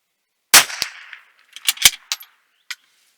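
Several sharp rifle shots from SK Standard Plus .22LR ammunition, a loud crack first and then a quick cluster of four or five reports with a last lone shot, crisp and close without talk.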